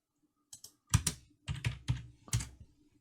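Typing on a computer keyboard in short, close bursts of crisp clicks, a few quick keystrokes grouped in an uneven rhythm, alone in a quiet room.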